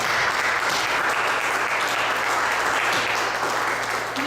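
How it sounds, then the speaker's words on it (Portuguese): A church congregation applauding, dense sustained clapping from many people filling the room at a steady, loud level. "Vamos dar uma salva de palmas"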